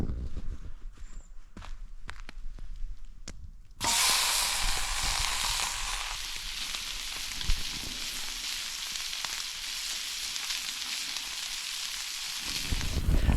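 Food frying in a pan over a campfire starts after a few seconds of quiet clicks and knocks, then a steady broad hiss and crackle of frying carries on at moderate loudness to the end.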